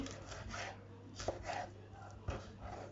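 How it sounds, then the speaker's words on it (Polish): A knife slices food into strips on a board, producing several soft, close rasping cuts with faint knocks against the board, quiet and unhurried. "I teraz też kroję sobie w paseczki"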